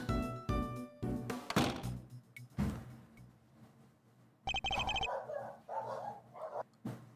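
Cartoonish dog barks from the Ace Attorney Investigations 2 video game, a string of bright clipped woofs and yips mixed with thumps and game sound effects, with no talking.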